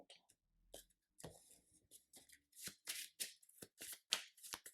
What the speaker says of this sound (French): Ok, je remélange des cartes rencontre.